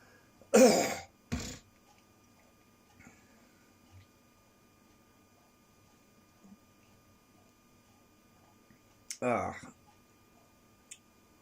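Two harsh coughs near the start from chocolate going down the wrong way, then quiet with faint clicks, followed by another throaty cough bout near the end.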